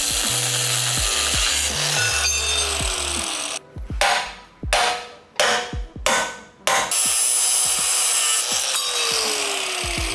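Old bumper mounts are cut off a 4th-gen Toyota 4Runner, with a steady grinding, rasping cutting noise interrupted by a run of four or five short, loud bursts and brief pauses, close by and without talk.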